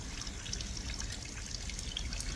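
Sewage water flows through a residential neighbourhood in Malatia, a steady low trickling and gurgling stream heard close and continuous, with no voices over it.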